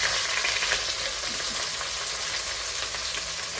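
Onion, garlic, green chilli, curry leaves and fenugreek sauté in hot oil, giving a steady, close, dense sizzle that holds evenly throughout with no voices.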